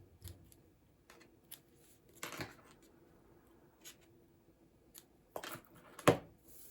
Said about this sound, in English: we'll trim that off a little bit